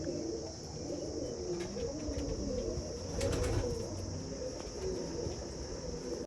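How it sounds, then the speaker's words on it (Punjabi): Large Punnu-bloodline pigeon coos in deep, rolling, repeated calls nearby, over a constant high insect-like drone, with no one speaking. "ਆਹ ਆਪਣਾ ਵੱਡਾ ਕਬੂਤਰ ਮੇਰਾ ਭਰਾ ਚੈੱਕ ਕਰੋ ਜੀ"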